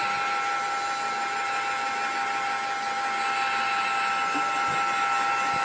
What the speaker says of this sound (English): all you're going to hear is this dryer